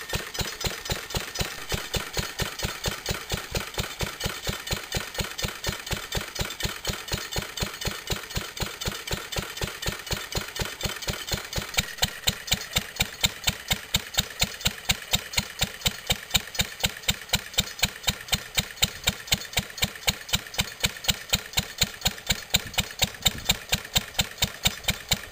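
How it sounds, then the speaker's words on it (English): An old Bamford stationary engine driving a lighting dynamo idles with a steady, even beat of firing pulses, the timing chain tinkling against its cover; it runs alone and grows a little louder halfway through. "Don't worry about the tinkling noise, it's just the timing chain occasionally hitting the timing chain cover."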